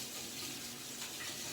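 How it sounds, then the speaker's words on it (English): Hands being rinsed under a running kitchen tap, a steady close rush of water splashing into the sink with no talking. "Bear with me as I rinse my hands."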